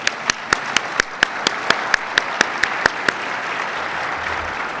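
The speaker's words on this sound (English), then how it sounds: "One more round of applause." Steady rhythmic clapping at a community keynote event, a regular series of about fourteen sharp claps over a bed of crowd noise, stopping after about three seconds.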